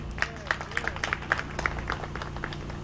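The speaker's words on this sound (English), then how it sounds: "Please give her a round of applause." Scattered clapping rises from guests at a birthday remembrance gathering, a light, uneven patter of hands with distinct individual claps, fairly quiet and brief.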